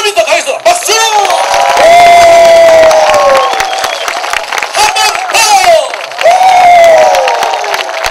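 Crowd at a summer seaside festival broadcast, cheering loudly with shouts and whoops rising over clapping, voices carrying high squeals and calls, loud and close.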